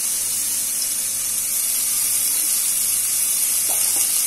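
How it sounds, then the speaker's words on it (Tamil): Onions and garlic sauté in hot oil in a pan for a South Indian lentil-dumpling curry, giving a steady, close, even sizzling hiss throughout, with no voices. "இந்த வெங்காயமும் பூண்டும் இப்ப வதங்கட்டும்."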